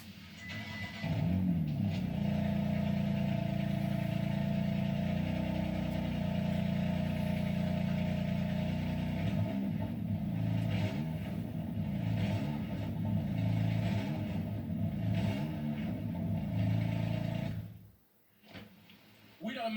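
A BMW M4 idles with a deep, steady exhaust burble, then revs in several rising and falling pulses before cutting off abruptly near the end; a voice is heard faintly.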